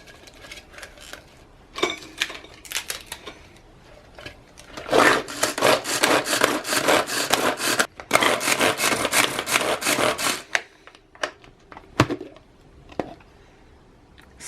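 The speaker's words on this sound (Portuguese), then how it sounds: "esse mini processador para moer o alho e o repolho e o gengibre" A mini food processor grinds garlic, cabbage and ginger in two sustained bursts of buzzing whir, each about three seconds long, with short pulses and clicks before and after, close-up and fairly loud.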